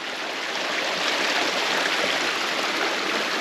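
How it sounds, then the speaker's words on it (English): Shallow creek water flowing steadily over rocks on a hiking trail in Tasmania during low water, a close, continuous rushing wash with no voices. "Crossing the creek, I should say."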